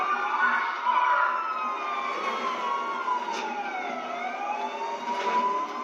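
Police car siren wailing continuously from inside a moving car in traffic, its rising and falling tones fairly loud and steady throughout, with no talking over it.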